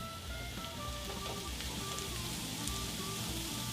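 Butter melting and sizzling in a pan with softened vegetables, a steady crackling fry that stays even and fairly close throughout with no talking.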